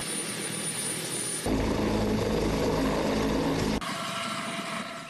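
An armed military helicopter at a training airfield, loaded with munitions, starts its engine: a steady mechanical roar that steps up abruptly in loudness and then shifts again to a higher whine, with no voices.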